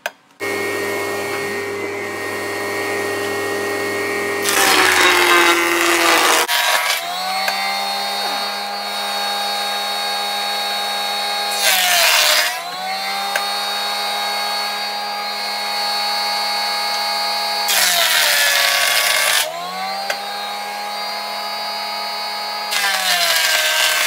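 A Craftsman 10-amp benchtop jointer runs with a loud, steady motor whine, broken several times by harsher roaring bursts as wood passes the cutter head, close and sustained throughout.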